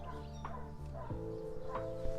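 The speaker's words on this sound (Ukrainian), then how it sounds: "Наша собака щось воює." A dog barks a few times at a distance at an apiary while queen bees are introduced into nucleus colonies, sharp yips over a steady low hum, fairly faint.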